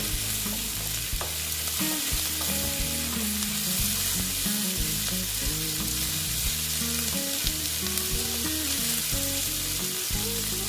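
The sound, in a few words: frying onions and dried loitta fish in a pan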